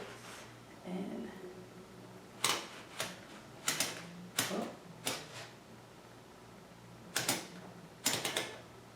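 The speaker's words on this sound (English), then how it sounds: "I'm really excited to try out the typewriter" A typewriter being tried out indoors, with sharp mechanical key strikes in small irregular bursts and pauses, close and fairly loud, with faint background sound between strikes.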